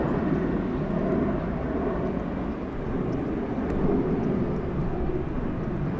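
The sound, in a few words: LATAM Boeing 767 airliner taking off at LAX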